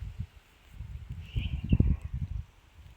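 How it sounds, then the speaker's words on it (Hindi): Strong wind blows through the hills, rustling leaves, heard as gusty, uneven low buffeting that swells in the middle and then eases, fairly close. "ये देखो कितनी तेज़ हवा चल रही है, ये देखो पत्ती कैसे हिल रही है।"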